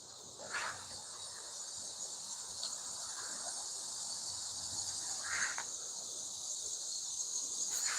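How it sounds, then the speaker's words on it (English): Loud, steady cicada buzzing fills the air of a forest at night in a continuous high drone, with a few brief swells and clicks along the way. "The cicadas are loud."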